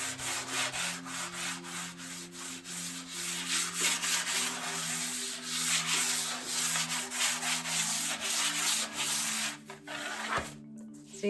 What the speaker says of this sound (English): I'm going to take my sanding block and I'm going to sand this down